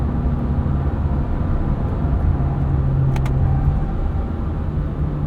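A 2024 Subaru Crosstrek Premium drives in manual mode, giving a steady close engine and road rumble with a low drone that holds level, then eases slightly, with no talking.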